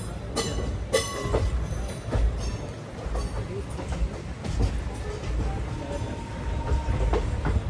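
Krishna Express rolls slowly into Vijayawada Junction, a close steady rumble with rhythmic clickety-clack of wheels over rail joints, a few metallic bangs near the start and faint murmured voices beneath.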